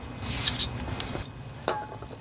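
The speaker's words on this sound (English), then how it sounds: "I'm going to get some carburetor cleaner just to make sure these components are cleaned out." Carburetor cleaner sprays onto the carburetor parts of a Murray lawnmower with a Briggs and Stratton E-Series 4.50 HP engine. A close, loud hissing burst is followed by a shorter second spray and a quick final puff.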